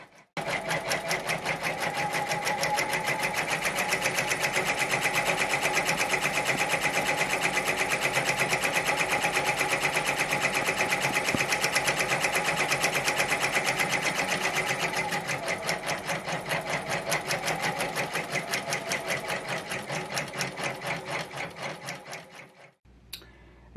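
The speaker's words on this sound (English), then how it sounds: "that design is completed. Finished stitching out beautifully" An embroidery machine stitches a free standing lace design, a loud rapid mechanical needle chatter running steadily for about twenty seconds before slowing and stopping, with no voices.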